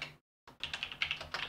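Fingers type on a computer keyboard during a git commit, a brief pause followed by a quick run of close, crisp clicking keystrokes.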